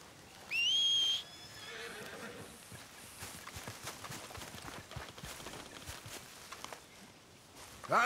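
A horse in the video game Red Dead Redemption 2 gives a brief shrill neigh near the start, followed by soft hoof clops and faint rustling, with another short whinny at the very end.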